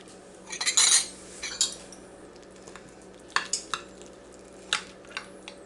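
Fried apple cobbler scooped into a bowl with metal cutlery, a few close clinks and scrapes of spoon against dish in short irregular bursts over a quiet kitchen background.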